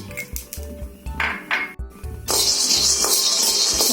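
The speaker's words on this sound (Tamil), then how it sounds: "கடை அடுப்பு வச்சு நிலக்கடலை வறுத்துக்கலாம்" Peanuts roasting in a pan on a stovetop, a steady run of scraping and clinking of the nuts against the metal pan, busy and close, with a brighter hissing texture building in the second half; no talking.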